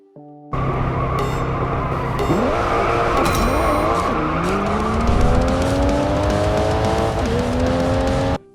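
Racing cars in the mobile game Racing Master drift continuously with loud, sustained tire squeal and engine drone, pitch sliding down and rising through the slides, close and steady with no talk.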